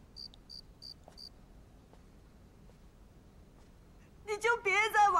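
Crickets chirp in a few short, faint bursts against a quiet night background, followed by a voice speaking near the end.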